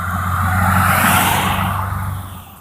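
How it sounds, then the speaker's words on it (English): A car turns around and drives off through a cornfield near a roadside checkpoint, its engine a steady, fairly close rumble that swells and then fades slightly as it pulls away. "He's driving through the cornfield because he has no idea where to go"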